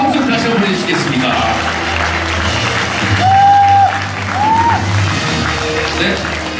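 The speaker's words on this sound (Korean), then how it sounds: "여러분 박수와 함께 다시 한번 보내주시겠습니다." Audience applause fills a Korean music awards ceremony hall, a broad steady wash of clapping with a sustained musical tone and brief sliding tones rising above it midway.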